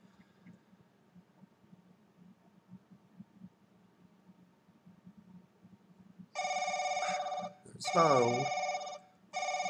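A telephone ringing in The Crooked Man horror video game, a loud electronic bell ring that starts after a quiet stretch with a low hum, repeating in bursts, with a brief spoken word near the start.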